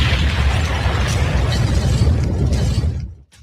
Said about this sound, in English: Drop a bomb.